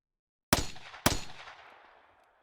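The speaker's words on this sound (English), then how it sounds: "And then more gunshots." Two sharp video game gunshots from Steins;Gate 0 ring out about half a second apart, each a loud crack trailing into a fading echo, with no voices.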